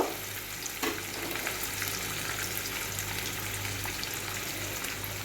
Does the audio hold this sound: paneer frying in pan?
yes